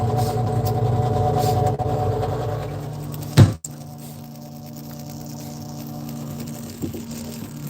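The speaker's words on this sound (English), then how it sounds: "it turns on a pump and pumps it into those holding tanks" An electric water pump runs steadily, pushing rainwater into holding tanks, a constant low mechanical hum with a brief louder knock midway, then a quieter continuous drone.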